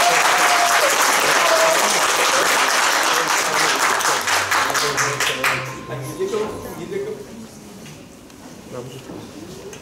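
Loud, dense audience applause at a young scientists' competition event fills the hall, steady and full for about five seconds before thinning into scattered claps and a low murmur as someone starts speaking.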